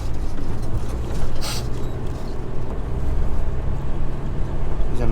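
A vehicle drives over open, dusty outback country, giving a steady, loud engine and road rumble throughout with a brief brighter swell of noise partway through.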